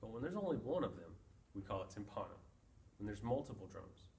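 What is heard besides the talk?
No everyday noises stand out.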